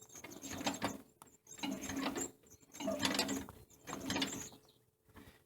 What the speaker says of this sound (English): what I found when cranking this tractor, you don't have to spin it real hard and real fast